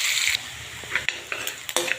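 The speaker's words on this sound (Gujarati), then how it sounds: "લસણ ડુંગળી આપણું શેકાઈ રહ્યું છે" Chopped garlic and onion sizzle and crackle in a hot pan, with a few sharp clinks of a utensil scraping and stirring against the metal.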